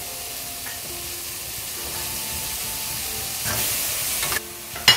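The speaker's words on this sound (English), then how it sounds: "Now I'm going to add in the meat pieces that we have boiled and kept as well." Boiled mutton pieces drop into a hot pan of spices and sizzle steadily, a broad hiss that swells near the end with a couple of sharp clanks.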